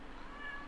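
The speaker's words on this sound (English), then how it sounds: "at least we got one meow out of it all" A single short meow from a cat in the video game Kentucky Route Zero, faint and brief over quiet background.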